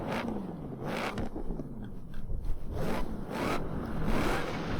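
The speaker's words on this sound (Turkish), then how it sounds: "Abi Super Charger sesi, ses Super Charger da zaten bu arabaya çok yakışıyor be" Supercharger whine from a Shelby 1000 in the racing game Forza Horizon 4, rising and falling engine pitch sweeping through repeated revs over a rumbling exhaust, no talking.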